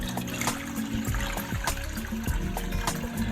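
Water runs into a small pot for steaming cake, a steady trickling and splashing stream with a few clinks, close by and without talk.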